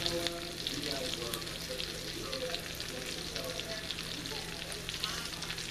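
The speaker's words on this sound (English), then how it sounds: "the chicken is really drinking up the butter, and what you're trying to do is just, you know, brown it" Chicken browning in butter in a skillet sizzles steadily and fairly close, a dense, even crackle that holds throughout.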